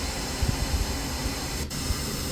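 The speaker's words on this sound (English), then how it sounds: "This is corrected pink noise." Corrected pink noise plays through a hi-fi speaker system in a demo room, a steady broadband hiss filling the clip alone at moderate level.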